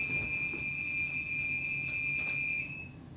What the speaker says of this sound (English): That set off the fire alarm panel, and that's then triggered the vessel monitoring system.